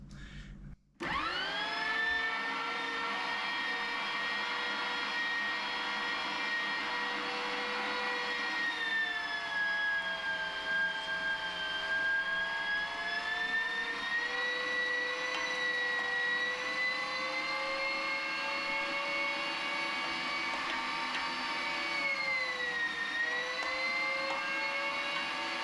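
An electric meat grinder fitted with a coarse blade starts up and whines steadily and loudly while grinding ham, its pitch sagging and rising slightly as meat feeds through, with no voices.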